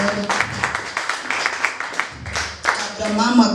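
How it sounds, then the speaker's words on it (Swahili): A church congregation applauds to welcome a woman, scattered clapping running under loud talking voices close by, growing busier toward the end. "Na tukaribishe mama wetu kwa makofi."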